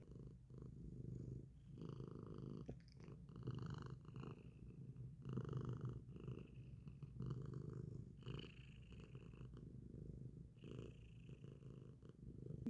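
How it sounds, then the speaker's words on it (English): A cat purrs loudly and close by in a steady rhythmic rumble that runs the whole time, with no talk over it. "Can you hear his purring?"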